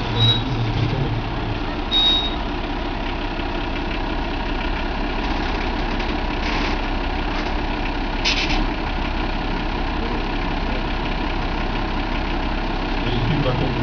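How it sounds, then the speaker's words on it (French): A fire brigade chemical-analysis laboratory truck idles at a steady, moderate level during a sapeurs-pompiers parade in Velaux, a constant engine drone carrying on beneath a commentator speaking French. "un véhicule à bord du laboratoire d'analyse spectrométrique"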